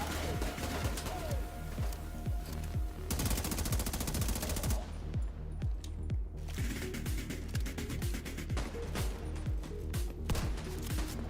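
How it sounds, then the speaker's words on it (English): Shotgun fire in the video game The Division 2, loud, repeated booming blasts mixed with dense rapid gunfire and mechanical weapon sounds, continuous and close throughout. "Oh, the shotgun's a beast."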